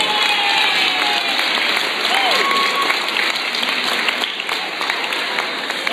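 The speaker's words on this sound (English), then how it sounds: "Let's have a round of applause for those volunteers." A large audience claps steadily and loudly for event volunteers at a lymphoma fundraiser kickoff, dense applause sustained throughout with a faint voice briefly audible beneath.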